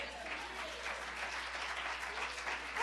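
A church audience claps steadily throughout, a dense even patter of many hands at moderate distance, fairly soft with no voices on top.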